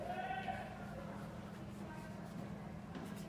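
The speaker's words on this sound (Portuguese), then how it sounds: "Tem galera berrando na rua," People shout out in the street on a sunny Saturday after Mexico beat South Korea, distant raised voices and cheering over a steady background rumble.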